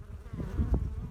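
Bees buzz around a honeycomb holding white larvae, a close, low hum with soft fluttering swells.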